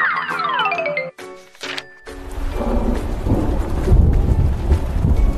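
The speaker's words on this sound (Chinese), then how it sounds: "下雨了。" Thunder rumbles and rain pours down in a storybook sound effect, a short chiming tune first, then a loud sustained wash of rain with a deep roll of thunder.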